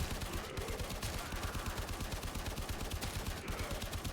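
Rapid, steady automatic fire from the Braton rifle in Warframe, a fast even rattle of shots continuing loudly and evenly throughout with no pauses.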